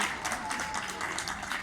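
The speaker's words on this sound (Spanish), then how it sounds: "Por favor, un fuerte aplauso con más cariño para que sigan." A crowd at a dance performance in Chile applauds warmly, a thick steady clatter of many hands throughout, with voices faintly mixed in.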